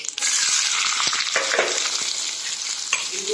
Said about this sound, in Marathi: आता ह्याच्यामध्ये मी कांदा भाजून घेणार आहे